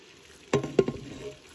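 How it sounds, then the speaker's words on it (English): Ground beef browning in a pot for homemade chili, giving a short burst of sizzling with a couple of stirring scrapes, close and moderately loud. "first thing we're gonna do is just brown our ground beef."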